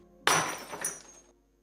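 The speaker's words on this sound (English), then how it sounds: "a sudden spill of the wine glass" A wine glass falls and shatters in one sharp crash, followed by a second of tinkling shards that fades out, fairly close with no voices.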